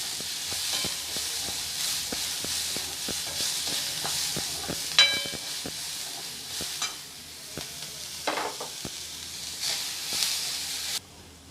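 Onions frying in hot oil give a constant sizzle and hiss while a spoon stirs them, with repeated sharp scraping clicks against the pan.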